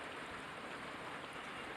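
Rain falls steadily on a lake during fishing, a soft, even, continuous hiss with no distinct drops or breaks, faint and distant-sounding.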